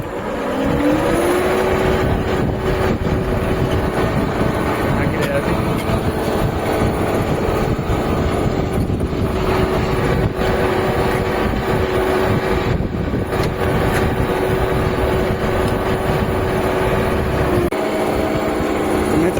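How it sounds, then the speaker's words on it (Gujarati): An electric tractor hilling soil up along peanut rows in a field, giving a steady, loud motor whine with a sustained tone and continuous mechanical rumble throughout, with no talking. "આપણે આ ઇલેક્ટ્રિક ટ્રેક્ટરથી આપણે પારા ચડાવી રહ્યા છીએ"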